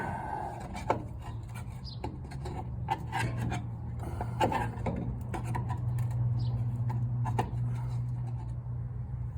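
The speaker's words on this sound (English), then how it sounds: "you gotta dig the bolt out with a screwdriver" A screwdriver scrapes caked crud off a bolt on 1938 Dodge brakes, a series of close, irregular scratching and rasping strokes over a low steady hum.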